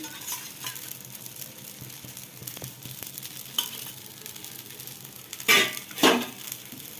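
Little millet dosa batter sizzles on a hot pan, a steady close frying hiss with a few sharper scraping and utensil clatters near the end; no one speaks.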